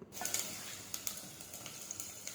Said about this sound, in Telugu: కొంచెం లైట్గా గోల్డెన్ బ్రౌన్ కలర్ వచ్చే వరకు ఫ్రై చేసుకుందాం